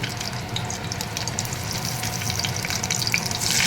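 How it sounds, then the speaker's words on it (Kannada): Masala-stuffed bitter gourd frying in a pan, a steady close sizzle and crackle of hot oil running throughout, with faint stirring and liquid sounds underneath and no talk. "ನಾನು ಏನು ಹಾಗಲಕಾಯಿನ ಸ್ಟಫ್ ಮಾಡ್ಕೊಂಡಿದ್ದೆ ಮಸಾಲೆಯಿಂದ ಅದನ್ನೆಲ್ಲ ಹಾಕ್ತಾಯಿದ್ದೀನಿ ಇದರೊಳಗೆ"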